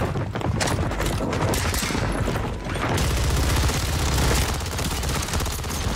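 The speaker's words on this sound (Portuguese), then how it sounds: "Tô levando tiro." Gunfire in an online battle-royale shooter game crackles in rapid bursts of automatic fire and single shots, dense and close with mechanical clatter, continuing almost without pause.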